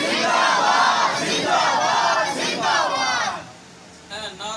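A large crowd at an outdoor religious gathering in Mozia Ghareeba, Gujar Khan, chants a slogan in unison, loud and sustained for several seconds with rising and falling waves of voices, then drops off and restarts faintly near the end.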